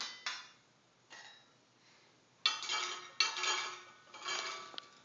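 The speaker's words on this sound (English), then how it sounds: "Oh, you're stirring it." A child stirring food in a pot with a spoon, a series of light metallic clinks and scrapes in uneven bursts, close and fairly quiet with short gaps between strokes.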